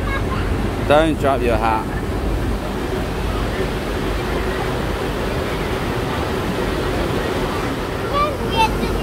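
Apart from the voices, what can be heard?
water rushing on Congo River Rapids ride, Alton Towers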